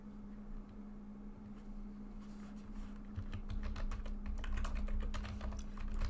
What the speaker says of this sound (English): My fishing, let's type it.